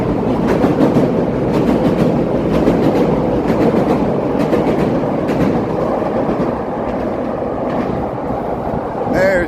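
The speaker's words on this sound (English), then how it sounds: "we'll get a good view of the L train coming by here." A Chicago L elevated train passes, its wheels clattering with a steady rhythmic clickety-clack and a broad rumble that stays loud throughout, heard outdoors in the West Loop city area.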